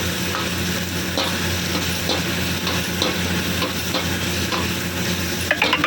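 Onion and capsicum fry in a pan while being stirred, giving a steady close sizzle with repeated scraping strokes throughout and no talking.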